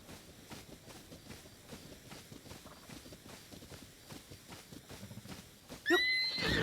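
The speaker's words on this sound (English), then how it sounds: "There's no way I'm getting a horse." Hooves clop steadily through the whole stretch in Zelda: Tears of the Kingdom, and a bright horse neigh rises loudly at the end.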